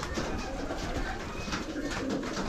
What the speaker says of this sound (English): these pigeons are so prolific